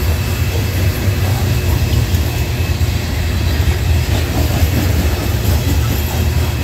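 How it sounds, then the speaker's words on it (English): A Norfolk Southern freight train rumbles past loudly and steadily in Creighton, Pennsylvania, with a deep continuous roar and faint rhythmic wheel clatter throughout. "And the train."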